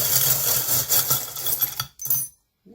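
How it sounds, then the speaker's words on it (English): Oracle cards being shuffled loudly and close up: a dense, continuous papery riffle and slap lasting about two seconds, then a brief final burst before stopping. "this just gets a little loud as we're shuffling"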